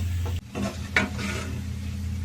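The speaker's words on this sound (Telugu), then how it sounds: "తిప్పుకున్నాం." Chicken fry being stirred in a pan after chili powder goes in, with a close steady sizzle, a brief scrape of a utensil against the pan partway through, and no voices.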